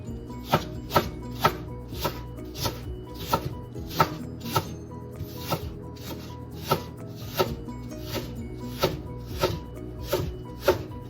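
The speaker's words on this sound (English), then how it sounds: "But basically you cut everything in strips, you know? Onion, cut, then you start julienne." Knife julienne-cutting onion into strips on a cutting board, a regular series of sharp close chops about one per second, alone without talk.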